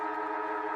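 Siren sounding at the end of a quarter in a women's Australian rules football match, a loud, steady, sustained wail heard alone for a brief moment.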